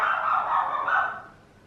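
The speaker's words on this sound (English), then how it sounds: "My dog is barking." A pet dog gives a short, close bark-like yelp that fades out quickly.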